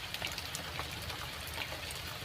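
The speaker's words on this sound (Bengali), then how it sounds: "প্রচুর পরিমাণ বৃষ্টি হচ্ছে" Heavy rain falls in a dense, steady hiss, with drops spattering on surfaces nearby and no let-up for the whole stretch.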